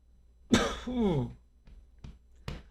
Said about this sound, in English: Just started coughing for no apparent reason.